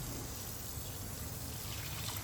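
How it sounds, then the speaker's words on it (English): Beet greens are rinsed in a baking soda solution, a quiet, continuous trickle and pour of water that runs steadily throughout, with no voices. "I'm also going to rinse this in a baking soda solution"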